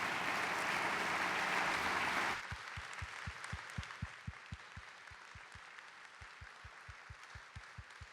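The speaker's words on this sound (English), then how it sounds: "please give one more round of applause to Captain Farrell" A lecture audience at a D-Day commemoration applauds for Captain Farrell, a dense burst of clapping that cuts off abruptly and leaves scattered, sharp single claps fading out across the room.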